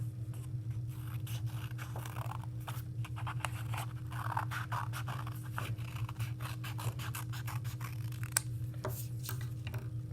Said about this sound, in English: We want to draw on the folded part so it'll make one shape when we're done.